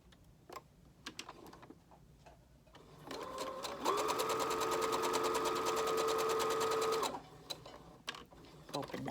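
A sewing machine stitches a seam on a little-houses quilt, starting up and running in a fast, steady whir of rapid needle ticks for about four seconds before stopping, close and clear amid quiet handling noises.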